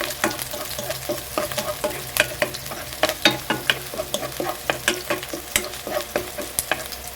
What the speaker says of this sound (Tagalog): Maglagay na muna tayo ng mantika. Panggisa natin. Unahin na natin mga migisa ang ating sibuyas.